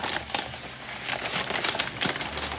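Rested smoked beef plate ribs are unwrapped nearby, giving close, irregular crinkling and rustling bursts with sharp crackles and no talking.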